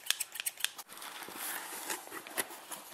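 Scissors snip and cut through the packaging of an international care package, with quick crisp clicks and crinkling close by, alone without talk.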